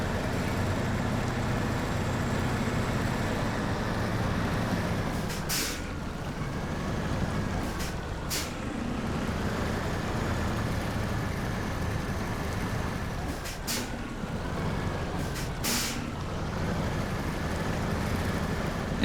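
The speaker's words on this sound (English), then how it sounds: "As long as we can get the Pacific through, we should be able to just muscle our way through with the trailer." A Pacific truck towing a trailer in Snowrunner, its engine droning in a steady, loud rumble with a wavering tone that rises and falls as it pushes through terrain, joined by a few brief knocks.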